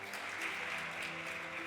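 At a televised competition's results announcement, a studio audience applauds a group named Lafia with continuous, even clapping, and a faint musical tone sits underneath.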